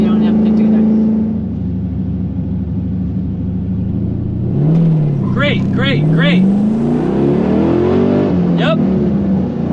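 A car engine roars close and loud as it revs and accelerates hard through a drag race, the pitch climbing in steady surges while people inside talk over it.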